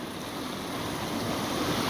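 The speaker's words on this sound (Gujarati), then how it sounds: "આ બંધ ઉપરથી પાણી પડે ને એ છે આ" Steady, loud rushing of water pouring over a check dam into a canal, a continuous broadband roar with no break.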